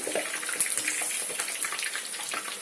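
Chekkalu rice crackers deep-frying in hot oil, a steady, dense crackling sizzle that fills the whole moment at close range, with no voices.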